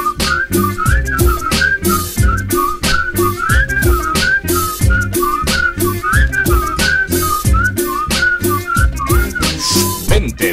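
A bright whistled melody in a Spanish bar's Christmas advertising jingle, carried over a steady rhythmic backing beat that keeps going throughout.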